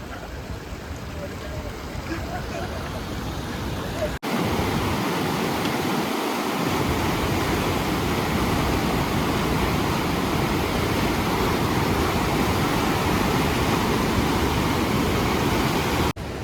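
A river rushes beneath an old bridge on the mountain pilgrimage trail between Govind Dham and Govind Ghat. The water makes a loud, steady roar throughout, with a brief dip in the first few seconds.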